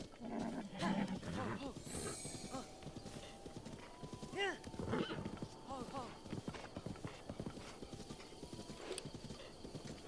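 Wild horses' hooves clip-clop steadily in Zelda: Breath of the Wild, with occasional whinnies and neighs, close and clear throughout, while a person talks over them.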